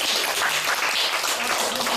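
A church congregation claps together in steady, dense applause that fills the room at close range, holding even and loud from start to finish with no talking.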